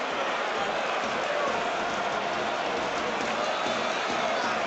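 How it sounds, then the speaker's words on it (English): Driving rain hisses steadily over the stadium at Arsenal vs Fulham, a dense, continuous wash of noise with a faint crowd murmur beneath and no clear speech. "So Saka against Leno, a long way from us in the driving rain."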